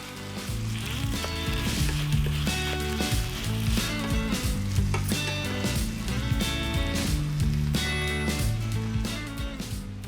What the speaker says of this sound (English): We're just gonna continue to cook this until the sauce is reduced and thickened slightly